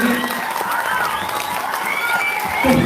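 Audience at a Balinese comedy show applauds in a steady, dense wash of clapping, with crowd voices mixed in throughout.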